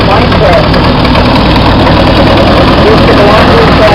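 A tractor engine runs steadily at a harvest reunion parade, a loud, continuous low idle-like rumble with a rough knock, close by and unbroken for the whole stretch, with voices murmuring underneath.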